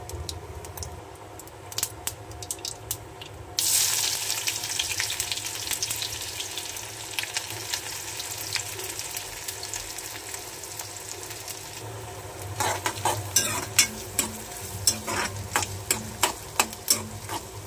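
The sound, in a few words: onion frying in hot oil with cumin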